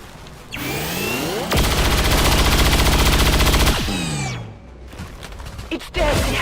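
A burst of rapid automatic gunfire rips through a turret in the XCOM 2 video game, loud and continuous for a couple of seconds, framed by whooshing mechanical game effects before and after.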